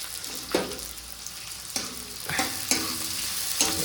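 Chopped onions sizzle and fry in a wok for a mutton curry gravy, a steady close hiss broken by several sharp scraping stirs of a spatula, with no talking.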